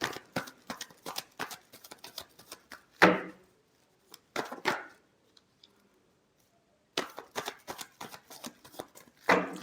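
Tarot cards being shuffled by hand, quick rapid riffles and flicks in bursts with a pause of near silence in the middle, close and crisp.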